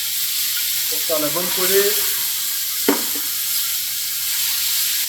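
Mushrooms frying in a pan give a steady broad sizzle throughout, with a short stir or clatter near the middle and a brief spoken phrase early on over the hiss.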